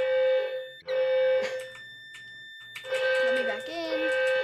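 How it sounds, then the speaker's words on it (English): Several building fire alarms going off at once, a steady high electronic tone with repeating beeps, broken by short gaps and someone talking over them. "So if you go out, all the fire alarms you can see are going off."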